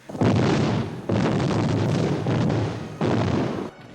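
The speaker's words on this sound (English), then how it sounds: "We had multiple angles of all these huts exploding" Huts blow up in a film action scene, three heavy booming explosions in succession, each a loud, roaring burst that sustains briefly before the next, with no voices.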